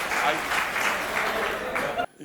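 Audience applause at a Hindi comedy poetry gathering, a steady dense wash of clapping that stops abruptly near the end, with talk underneath.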